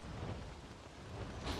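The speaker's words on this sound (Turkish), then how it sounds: "Abi nasıl yağıyor ya?" Heavy rain pours down in the game Don't Starve, a dense, steady, fairly quiet hiss of rainfall with a low rumble, continuous and with no voices.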